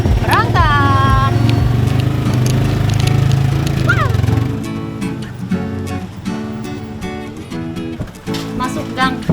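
A motorcycle engine drones steadily as it rides into a narrow village alley, with close voices talking over it. The hum drops away midway, leaving scattered knocks and clatter.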